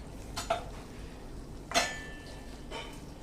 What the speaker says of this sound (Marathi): भाजी छान हलवून घेते